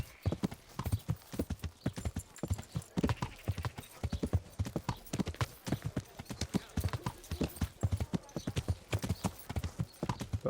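Horse hooves clip-clopping at a steady trot in the medieval video game Kingdom Come: Deliverance, quiet and even rhythmic footfalls continuing throughout without pause.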